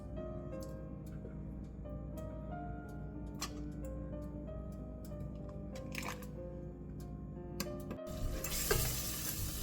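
Butter heats in a pan over a gas flame with a steady, soft sizzle and faint crackle. A brief louder hiss rises near the end, and occasional light clicks of a utensil come through. No one speaks.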